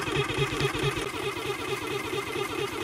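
A gold recovery jig machine pulsing at a gemstone mine in Canada, loud and close with a steady, rapid mechanical throb and rattling churn running unbroken throughout.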